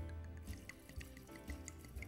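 A full bottle of Beringer Cabernet is poured and sloshed into a big cocktail pitcher of Fundador mojito mix, a steady trickling wash with small splashes and drips, soft and close.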